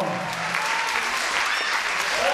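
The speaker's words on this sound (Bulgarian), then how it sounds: "вижте колко аплодисменти са били" Audience at a children's concert applauds, a dense burst of clapping from many hands filling the room steadily throughout, with a voice faintly over it.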